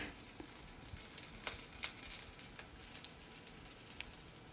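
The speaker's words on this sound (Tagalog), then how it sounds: "Ito, gisa bawang." Garlic sizzles in hot oil in a pan while being sautéed for pancit, a soft steady frying hiss close by with faint scattered pops and occasional light stirring, no voices over it.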